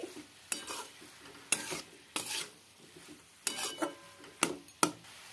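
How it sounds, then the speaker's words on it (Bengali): Vegetables with chopped boiled potato and deseeded tomato are stirred together in a cooking pan, the spoon scraping in repeated uneven strokes, with a soft sizzle underneath and no talking. "এইগুলো সবজির সাথে মিশিয়ে নিচ্ছি"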